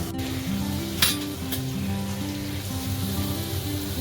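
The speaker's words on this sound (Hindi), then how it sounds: "हमें इसे अच्छे से मसाले को भूनना है, लगना नहीं चाहिए बॉटम में" Spiced masala for Amritsari Pindi chole sizzles steadily in hot oil in a pan, a continuous close frying hiss with a couple of faint clinks, no talking.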